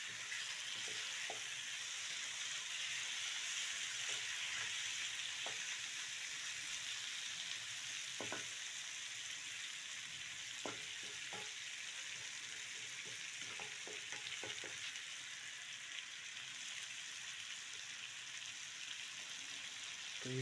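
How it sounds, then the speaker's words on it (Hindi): Kaleji and pota fry in a pan with a continuous, even sizzle, broken by occasional soft clicks and taps of stirring. No voices are heard. "तो ये फ्राई हो रहा है,"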